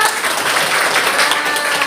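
Classroom applause from students in an Indonesian language lesson, a dense, loud burst of clapping filling the whole short moment with no pauses.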